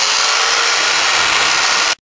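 Electric chainsaw cutting into a foam block for sculpture, a steady loud whining buzz that runs continuously for about two seconds before stopping abruptly.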